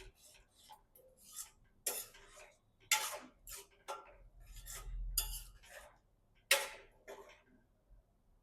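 A spoon stirring a yogurt and spice mixture into paneer bhurji in a pan, sharp clinks and scrapes against the metal at irregular intervals, with a short low sizzle midway.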